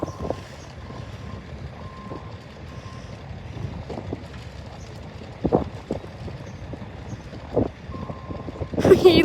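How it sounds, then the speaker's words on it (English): Construction truck at a building site with excavators, its reversing alarm beeping in regular spaced pulses under wind noise and engine rumble, with a few knocks and a louder bump at the end. "Excavators, like look at this truck."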